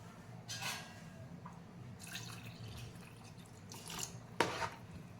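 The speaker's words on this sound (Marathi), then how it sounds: "मी आता त्याला 3-4 पाण्याने स्वच्छ धुवून घेते व त्यातलं पाणी काढून घेते" Homemade butter, churned in a mixer, being rinsed in water by hand in a kitchen: a few soft splashes and drips come in separate bursts, with one sharper slosh near the end, against a quiet background.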